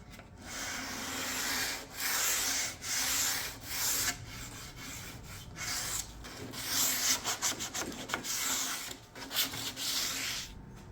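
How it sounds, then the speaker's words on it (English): Primed wood frame sanded by hand with a light pass over raised grain: steady, close scratchy rubbing strokes in long sweeps, then shorter quicker strokes, alone without talk. "I'm going to give it a light coat of sanding"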